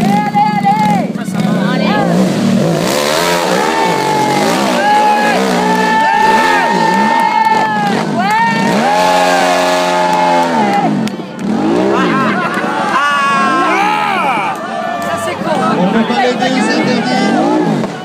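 A race car climbing the impossible hill at Munster, engine revving in rising and falling wails, loud and close, with a cheering crowd and shouting voices throughout.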